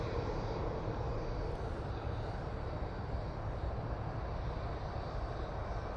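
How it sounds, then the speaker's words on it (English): A Ryanair Boeing 737 MAX 8 arriving from Rome rumbles steadily at a distance, a broad continuous jet roar holding an even level throughout. "we do have this Ryanair coming in from Rome using 737 MAX 8"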